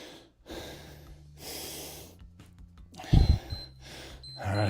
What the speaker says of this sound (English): Job right now is to breathe.